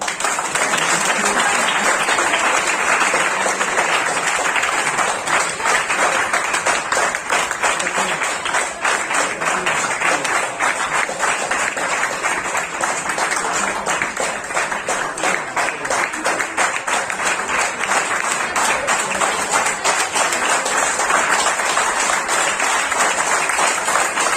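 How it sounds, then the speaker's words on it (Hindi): Students and staff at a Hindi Diwas celebration in a Patna polytechnic clap for the third-prize winner of a poetry recitation. Continuous crowd clapping runs on for over twenty seconds at a steady, loud level, with many overlapping hands. "ताली को बजाओ।"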